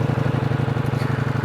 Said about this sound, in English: Lovely exhaust note. Could be louder, but that's okay.